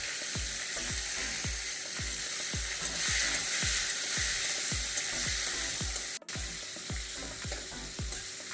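Chopped tomato frying in tempered oil for a Bengali prawn and pumpkin curry, a steady loud sizzle broken by a regular rhythm of spatula scrapes and stirs, close up and with no talking.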